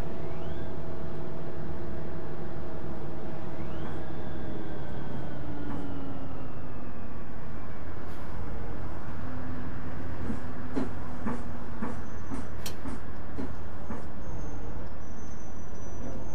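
City bus from the OMSI 2 bus simulator, a Metrobus driving through Düsseldorf, with a steady engine drone and rising, falling whine as it pulls away, then rattling clicks and faint chimes toward the end, with some talk mixed in.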